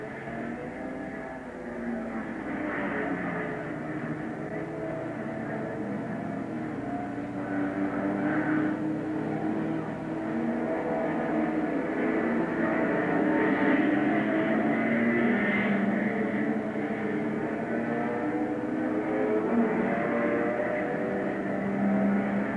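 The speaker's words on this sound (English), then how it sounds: "The cars continue to flash by the pits" Late-1950s sports racing cars such as Maserati, Ferrari and Porsche roaring past the pits at night during the 1957 Sebring endurance race, a continuous loud engine drone with swelling passes and no voices.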